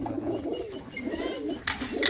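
Large, sturdy kept pigeons at Lambu Mahmoodpur coo in low, rolling phrases close by, ending with a brief burst of wing flutter or rustling.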